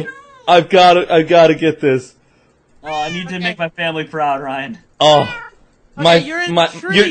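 Players in a Minecraft hide-and-seek match voice cat-like meows, imitating the game's cats, in quick bursts that alternate with excited talk throughout.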